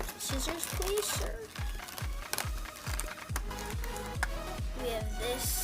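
Scissors snip through Beyblade packaging in a quick, regular series of sharp cuts, close by, with light plastic and paper crinkling in between.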